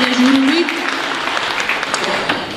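An audience at a folk music festival competition breaks into loud, sustained applause for the jury president, dense clapping filling the hall, with a voice briefly heard at the start.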